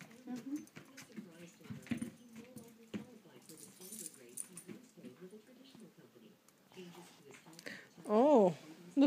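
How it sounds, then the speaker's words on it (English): A dog makes short whining and yipping sounds, with one louder bark near the end, over rustling and faint background noise. "She just barked at her toy bin."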